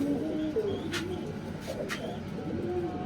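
Pigeons cooing close by, a pair nesting over their eggs, with two short bursts of soft calls against a steady low background hum and no talk.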